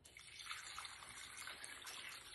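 Water poured from a tap into a crock pot, a steady broad gushing splash lasting a couple of seconds with no talking.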